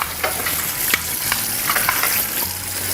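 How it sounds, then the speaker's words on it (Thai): Parts of an Angel cold-press juicer are rinsed under running water at a kitchen sink, a close, continuous hiss and splash with faint knocks of parts being handled, with no voices. "แล้วเราก็ ล้างทำความสะอาดอย่างเงี้ยครับ"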